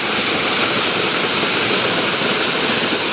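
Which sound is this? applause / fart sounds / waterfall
waterfall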